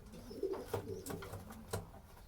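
Pigeons cooing close by, with several soft throaty coos and low burbling calls in an irregular pattern over a quiet background.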